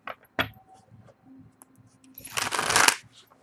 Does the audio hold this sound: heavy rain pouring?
no